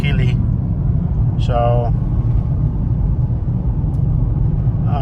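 Steady low road rumble inside a Toyota Corolla Hybrid climbing a hilly road, constant and fairly loud, with a person briefly talking over it.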